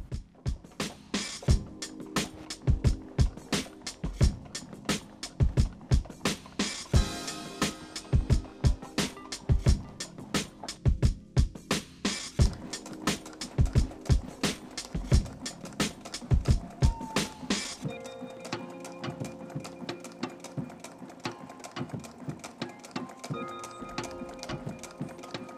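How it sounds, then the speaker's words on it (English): An Adler industrial sewing machine top-stitching the centre panel of an Aston Martin DB6 Mk1 car seat, running in rapid rhythmic bursts of needle clatter with short pauses, close and fairly loud, then a quieter hum toward the end. "I will use the Adler to top stitch the centre panel"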